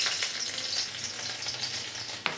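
Garlic sizzles and crackles steadily in hot oil in a kadhai, a close, continuous frying hiss with a brief stir or clink near the end.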